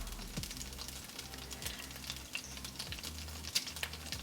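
Battered vegan tofu fries quietly in a pan, a soft, steady crackle with occasional sharper pops and a few faint low clunks, heard close and alone.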